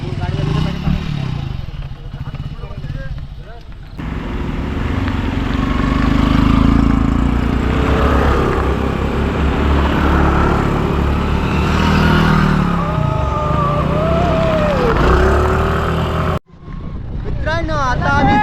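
A group of motorbikes starting up and riding off on a village road in Guhagar, Konkan, with loud engine drone building and sustained close by, under people talking and calling out.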